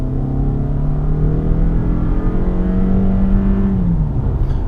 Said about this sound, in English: if I were to just give it full gas now